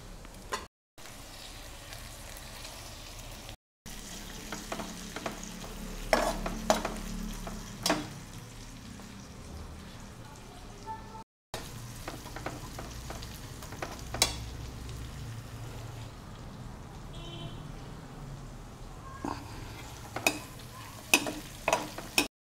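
Coconut milk chicken curry fries in ghee over a raised flame, a soft continuous sizzle with bursts of spoon clatter and scraping as it is stirred, broken by brief pauses.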